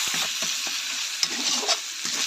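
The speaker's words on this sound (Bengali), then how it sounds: "দেখো আমার আদা রসুনটা প্রায় ভাজা হয়ে গেছে" Ginger and garlic frying with spices in a pan give a steady, close sizzle, with a few scrapes and clinks of stirring breaking through.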